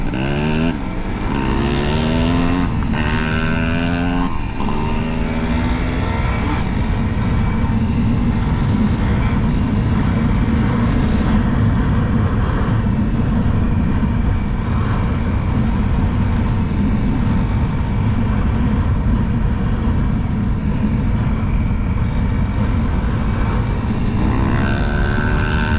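A 2021 Honda CRF300L dual-sport motorcycle engine drones loudly and continuously while riding, with rising and falling revs early on as the throttle opens, steady close rumble and wind throughout, no talking.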